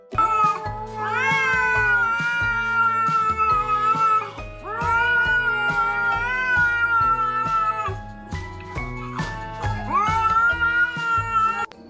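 Cat meowing and caterwauling at length in long, drawn-out, insistent vocal calls, close and loud, coming in three extended bouts with short pauses between, accompanied by a steady rhythmic background beat.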